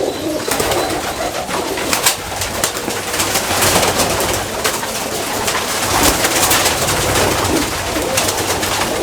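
Many teddy pigeons coo together, continuous and loud, with soft fluttering and scattered clicks in a busy, crowded pigeon loft.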